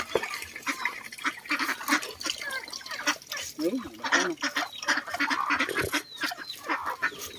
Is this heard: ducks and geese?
yes